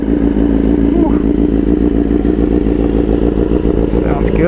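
A BMW S1000RR sportbike with an aftermarket exhaust runs loud and close, a dense, throbbing mechanical clatter that holds steady with small rises in revs.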